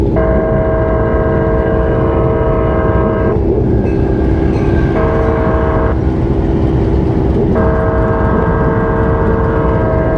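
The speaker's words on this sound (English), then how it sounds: "That's a short train." A train rumbles past close by with a steady roar while its horn blows in long sustained blasts, broken by short gaps.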